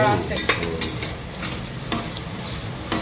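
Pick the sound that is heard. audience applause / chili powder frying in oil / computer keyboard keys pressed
chili powder frying in oil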